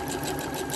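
Sewing machine running steadily and close while stitching a quilt block, a dense, continuous mechanical whir with a fast, even stitch rhythm and no talk.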